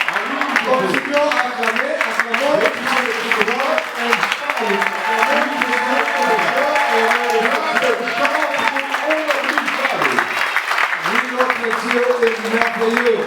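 A church congregation claps and cheers in praise, loud and continuous with a dense rhythmic patter throughout, mixed with many voices shouting and singing over it.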